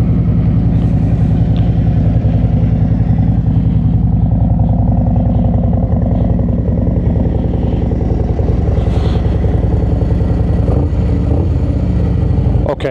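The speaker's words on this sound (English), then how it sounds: "I'll give you a walk around on her with her idling outside." A 2024 Harley-Davidson Road Glide with a Screamin Eagle Pro Street Tune idles outdoors. Its loud, steady, deep engine rumble holds for the whole stretch without pause.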